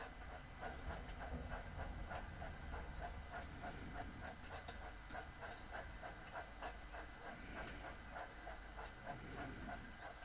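A Thomas the Tank Engine steam train runs steadily under a constant hiss, with a rhythmic chuffing and clicking beat through a continuous low rumble, moderately close.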